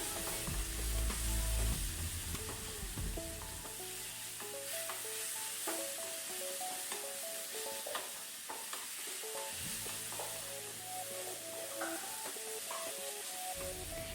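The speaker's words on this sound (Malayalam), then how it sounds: "മസാലയുടെയൊക്കെ പച്ചക്കുത്തൊക്കെ ഒന്ന് മാറുന്ന വരെ നന്നായിട്ടൊന്ന് വഴറ്റി കൊടുക്കുക." Onion masala with chicken masala sautéing in a pan for a dosa chutney, a steady close sizzle with repeated scraping stirs throughout, no voices.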